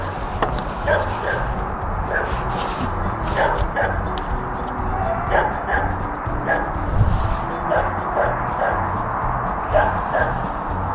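Several dogs bark, yip and whimper at a farm with horses, their calls repeating irregularly at mid distance while a person talks over them.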